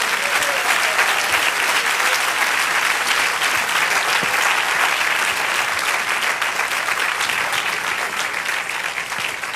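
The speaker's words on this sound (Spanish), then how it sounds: "Den un aplauso al Señor." A church congregation bursts into sustained loud applause after a sermon, a dense, even wash of many hands clapping for nearly ten seconds, easing off slightly at the end.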